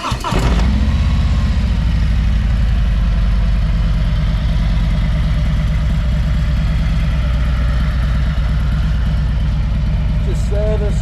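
A serviced motorbike with a new front tyre idles close by, a steady low engine throb running continuously after a brief start, with no other sounds standing out.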